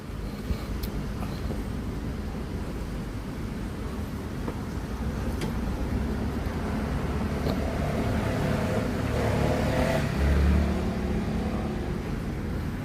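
A new Nissan car passing on a seaside street in Nessebar on the Bulgarian Black Sea coast, its engine and tire roar rising gradually and peaking near the end over continuous traffic and outdoor ambience, without speech.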